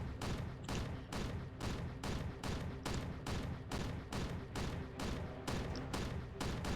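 Sniper and bolt-action rifle fire in the video game Strike Force Heroes 3, a rapid, evenly spaced string of loud sharp gunshots with no gaps between volleys and no speech.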